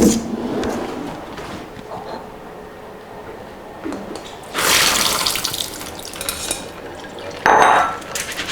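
Cold water draining off crisped salad vegetables in a kitchen sink, a steady rushing splash with louder pours and clatter of a strainer, close and without talk.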